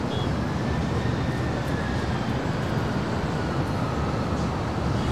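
A fixed-wing airliner on approach to Los Angeles International Airport gives a broad, steady roar of jet engines with a faint whining tone across it, holding at a constant loudness over a few seconds.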